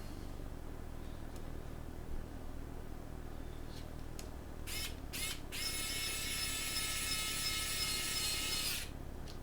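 Small screwdriver turning a tiny screw back into a laptop to secure an NVMe SSD, heard as a few light clicks followed by a bright, steady ratcheting whir for several seconds over a low background hum.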